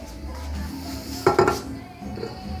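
A lid set onto a microwave-safe container of rice for green rice, giving a short double clatter of plastic and dish clinks in a quiet kitchen.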